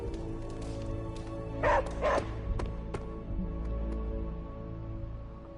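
A dog in Marvel's Midnight Suns barks twice in quick succession, close and clear, over a low game ambience.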